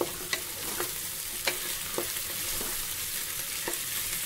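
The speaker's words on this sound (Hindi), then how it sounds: "अब इसे डालेंगे और इसे भी 2-3 मिनट भून लेंगे।" Capsicum and beans sautéing with carrots in a pan for mixed vegetable tehari, a continuous sizzle broken by regular scraping strokes of a spatula, close and alone.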